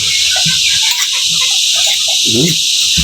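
Chickens cluck near a nest and a rooster gives a short crow amid a loud, hissing outdoor background.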